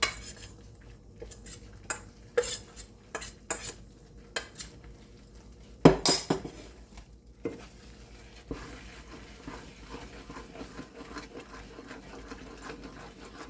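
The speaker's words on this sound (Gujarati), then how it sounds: "બરાબર મિક્સ કરી દઈશું." Gundar paak mixture being stirred in ghee with a spoon, with sparse clinks and scrapes against the pan at first, then a quieter continuous low rustle, close and without speech.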